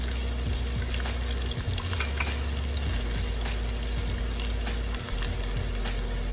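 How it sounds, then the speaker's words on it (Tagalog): Onions sizzle and fry in a pan, a continuous crackling hiss with scattered pops and a low steady hum beneath, close and alone. "And then I need to caramelize my onions"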